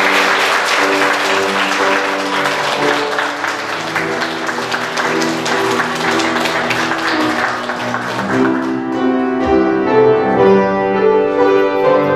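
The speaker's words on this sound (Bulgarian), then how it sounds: "Да поздравим с аплодисменти най-младото." A wedding crowd applauds steadily and loudly for several seconds, then the clapping fades as instrumental music comes to the fore.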